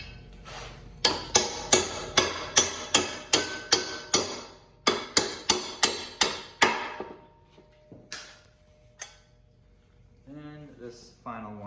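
Hammer strikes drive an axle part into a Timbersled ARO 129 snow bike kit on a 2021 Honda CRF450RL: two rapid runs of about eight sharp metallic blows each, close and loud, then a few scattered knocks.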